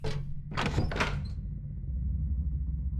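A door in the video game Silent Hill 3 gives a single heavy thunk and rattle lasting about a second, followed by a low ambient hum.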